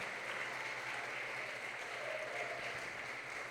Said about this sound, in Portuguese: Aplauda o Senhor com vontade